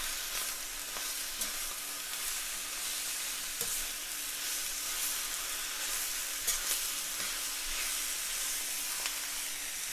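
Shrimp, mushrooms and bean sprouts sizzle steadily in a hot stir fry, a continuous bright frying hiss with small clicks of ingredients being tossed, loud and close throughout.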